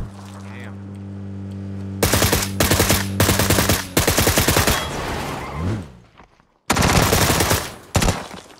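Rapid bursts of automatic gunfire from the battle royale game PUBG rattle out in several loud close volleys, separated by short gaps, with a brief honking sound before them and no speech.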